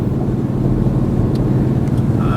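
A 2011 Mustang 5.0 V8 fitted with an MRT Interceptor axle-back exhaust rumbles along in around-town driving, a steady, loud low-pitched drone with no talk over it.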